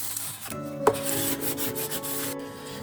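A squeegee is dragged over a stencil laid on eco resin for a cake stand. A steady, close scraping rub holds for a few seconds, with one sharp tick partway through and no speech.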